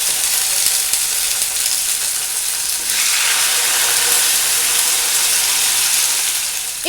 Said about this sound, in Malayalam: അതിനുശേഷം നമ്മുടെ ചിക്കൻ എടുത്ത് ഇതിലേക്ക് നമുക്ക് വെച്ചിട്ട് കൊടുക്കാം